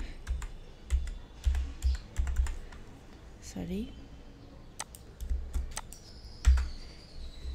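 Someone types a search query on a computer keyboard, producing steady bursts of close, crisp key clicks with short pauses between them; a voice is heard briefly midway.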